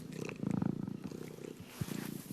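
A large wild cat with dense long fur purrs softly in a low rumbling rhythm, the pulses close and quiet with a brief louder burst near the end.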